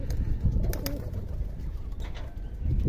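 Pigeons coo softly in low, rolling calls on a rooftop garden amid outdoor background noise, with a few faint chirps and no voices.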